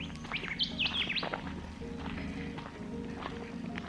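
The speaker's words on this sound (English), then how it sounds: "there's lots of birds out" Several birds chirp and tweet in quick bursts during mating season, a lively chorus of small calls at moderate distance over a low background rumble, in a Perth hills wildflower reserve.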